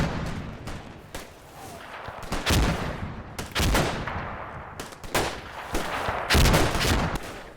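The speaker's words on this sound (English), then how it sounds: "The Germans start mortaring the vineyard, throwing Able Company into chaos and scattering the remaining troops" Mortar rounds and gunfire in Combat Mission Fortress Italy as German mortars hit a vineyard: a series of loud, sharp blasts and cracks spaced irregularly, several close and heavy, over a low rumbling battlefield bed.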